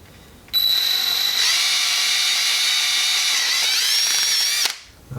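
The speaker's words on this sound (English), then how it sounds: "So for now, let's just bore these out." Power drill boring out holes in an aluminum part during an engine build: one continuous, close, loud high-pitched whirring whine with a shifting metallic pitch lasts about four seconds before stopping abruptly.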